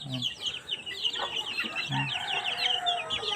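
Chickens cluck intermittently at moderate distance while many small birds chirp steadily in the background, in the Agusan Marsh, Philippines.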